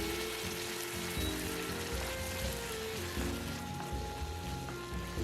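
Egg-in-hell pasta sauce bubbles over medium heat with a slice of cheese melting in, a continuous soft sizzle and simmer with faint clinks, no voices.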